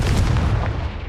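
A Confringo spell blast in the Hogwarts Legacy video game bursts out as a loud, dense rumbling boom that fills the whole moment, heavy in the low end with no voices over it.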